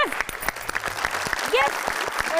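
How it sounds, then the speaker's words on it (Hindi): A live show audience applauds for Nimra, a short burst of clapping mixed with a voice talking and bits of sound over it. "माया निमरा जीत चुकी है, इनके लिए तालियां"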